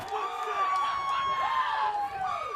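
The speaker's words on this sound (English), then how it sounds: "A vocal crowd for both sides." A lively crowd at a rugby league grand final roars and whoops continuously in the near distance, children's shouts mixed into the cheering.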